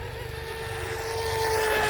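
A small RC model outrigger boat motor buzzes at a steady high pitch on water, growing slightly louder over two seconds with a faint whine on top.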